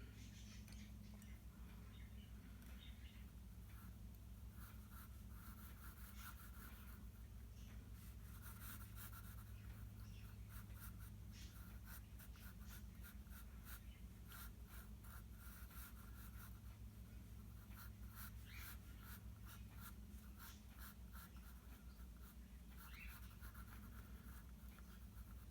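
Pencil drawing an eye on paper, a soft, continuous scratchy scribble of rapid short strokes over a low steady hum, faint and close, with no talking.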